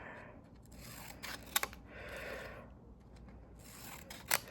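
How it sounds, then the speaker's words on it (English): Scissors snip through paper craft printables in short bursts, with a few sharp cutting clicks and soft rustling of paper close by, fairly quiet overall. "Use the green scissors, and you could cut into the pieces."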